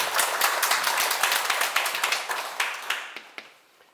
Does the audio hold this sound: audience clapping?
yes